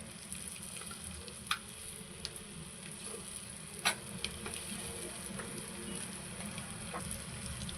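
Eggs seasoned with salt and turmeric fry in a pan for egg masala, with a soft, continuous sizzle, a few sharp crackles and spatula taps over a low background hum.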